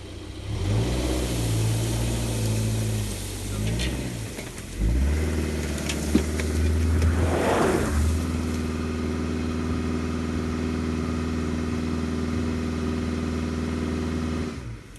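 A Subaru all-wheel-drive car left in drive climbs a hill, its engine droning steadily close by, rising in pitch under acceleration, with a brief clunk partway through and no voices.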